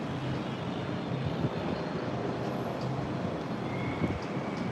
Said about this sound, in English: Planes are landing into runway 24 at Ninoy Aquino International Airport.